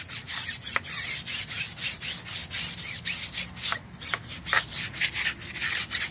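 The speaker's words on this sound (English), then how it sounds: "yes, I am scrubbing, and this is filthy." Close brush scrubbing on a heavily soiled surface, steady back-and-forth rubbing strokes with short bristly bursts, no voices over it.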